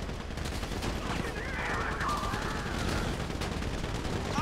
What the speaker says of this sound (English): So I guess we shooting our way out of here.